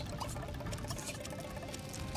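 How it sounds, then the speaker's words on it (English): A steady, close stream of water pours and trickles without a break as flowers are watered in The Sims 2. "Let's go out and water our flowers."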